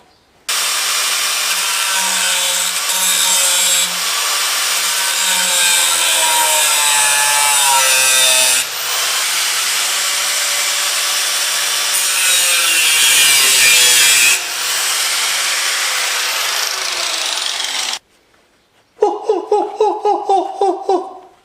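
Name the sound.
sawing the neck off a part held in a vise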